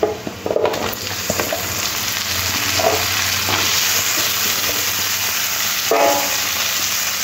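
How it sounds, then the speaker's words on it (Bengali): Chopped onion and okra frying in a pan, a continuous steady sizzle held at even loudness, broken by a few clinks and scrapes of stirring. "ঢেঁড়সটাও পেঁয়াজের সাথে ভেজে নিতে হবে।"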